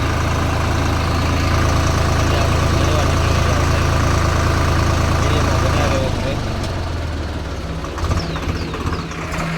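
A tractor engine idles on a village street before heading out to plough, a steady loud low rumble that eases and shifts slightly toward the end, with faint background voices.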